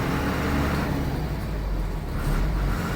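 A bus engine runs steadily and loud while the driver shifts into third gear during a driving lesson, a continuous low rumble with slight swells in revs.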